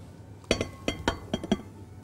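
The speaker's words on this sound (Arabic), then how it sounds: "احطه في البول." Pastry cream being transferred into a glass bowl, a handful of close, bright clinks and taps of utensil against glass in quick irregular succession over quiet background.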